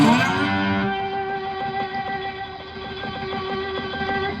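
A single slide note rings out on the first string of a three-string cigar box guitar, twangy and slightly gritty, sustaining and slowly fading over a few seconds.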